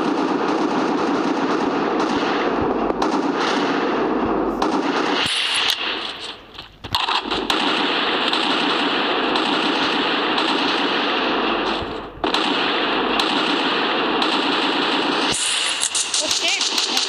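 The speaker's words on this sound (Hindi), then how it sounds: "गोली की आवाज" Gunfire from a Free Fire match, with rapid bursts of automatic weapon fire mixed into loud, dense game sound, cutting out briefly twice before resuming.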